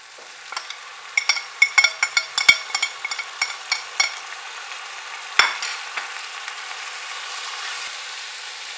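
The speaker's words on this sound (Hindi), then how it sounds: "अब चिकन जो हमने मैरिनेट करके रखा था वो इसमें शामिल कर देंगे" Marinated chicken hits a pan of sautéed onions with a steady sizzle, punctuated by a series of sharp clinks and scrapes from stirring, then settling into an even frying hiss.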